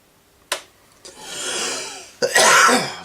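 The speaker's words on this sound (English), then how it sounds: "I really do hate tickly coughs" A person coughs and clears their throat in a few short bursts: one sharp hack, a longer rasping throat-clear, then a stronger final cough, all close and loud with no talking.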